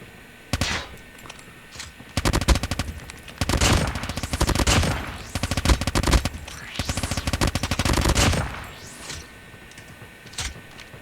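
A BK57 gun in a video game is hip-fired in rapid automatic bursts, loud and close, with short pauses between volleys and whooshing effects mixed in, while a voice talks at times.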